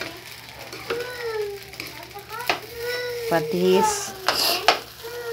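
Fried rice with hot dog and egg being stir-fried in a pan, with steady sizzling and scraping stirs under someone speaking and a voice, utensils clinking against the pan now and then.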